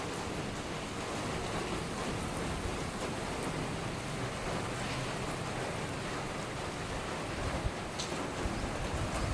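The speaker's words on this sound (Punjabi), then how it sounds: "ਮੋਟੀ ਕਣੀਆਂ ਦਾ ਮੀਂਹ ਆ" Rain falls in large drops outdoors in a garden, a steady, even hiss of moderate loudness with occasional sharper drop hits and no voices.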